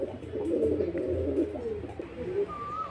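Pigeons cooing in a loft, soft low rolling coos repeating close by over a couple of seconds, alone with faint background noise.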